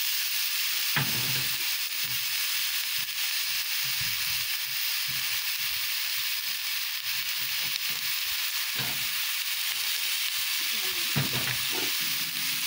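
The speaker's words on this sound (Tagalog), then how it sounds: "Igigisa lang po natin siya hanggang lumambot." Onions sautéing in hot oil for chicken curry make a continuous hiss over the whole stretch, broken now and then by a few soft stirring knocks, close by and without speech.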